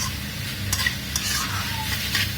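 Mangalorean pork curry masala sizzles in a pan while being stirred, a continuous frying hiss broken by light utensil scrapes, close and fairly loud with no one speaking.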